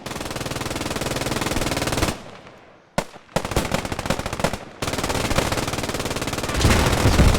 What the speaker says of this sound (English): Lots of machine gun fire.